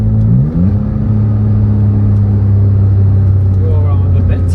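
Porsche fitted with upgraded performance brakes running a quick lap, with a loud, steady engine drone and low rumble, one brief shift in pitch near the start, heard from inside the car.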